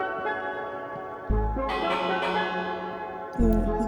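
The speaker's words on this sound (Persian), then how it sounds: "زنگوله برای چی اینجاست؟" A bell rings in a survival video game, with two loud resonant strikes that each leave a long shimmering decay.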